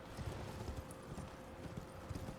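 Horse hooves clip-clop in a steady, rhythmic gait as a player rides in the video game Elden Ring. The hoofbeats are quiet and continuous, with no speech.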